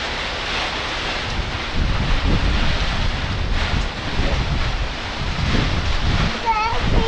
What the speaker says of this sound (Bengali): প্রচন্ড বাতাস হচ্ছে